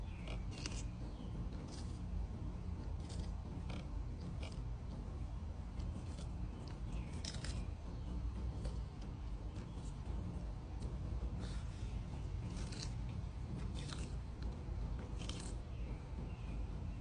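A sulcata tortoise bites and chews a cupcake up close, producing repeated short, crisp crunching snaps in an irregular rhythm over a steady low background.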